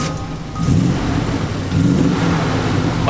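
A Triumph Stag's engine revs in two short blips, a throaty mid-range rumble rising then settling, heard briefly with background noise.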